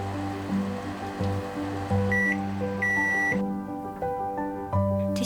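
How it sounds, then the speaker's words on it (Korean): A microwave oven runs with a damp tissue inside to steam-clean it, giving off a steady low electrical hum punctuated by several short, high beeps, with no talking. "티슈를 넣고 1분 동안 돌리면 스팀이 나오면서 전자레인지 안에 찌든 데를 불려주는데요"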